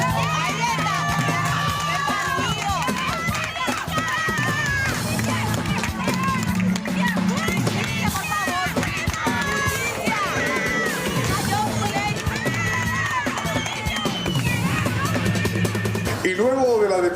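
A neighbourhood crowd celebrates the capture of a 24-year-old man, with loud shouting, cheering and excited voices all talking at once, steady and close throughout, with some clapping mixed in.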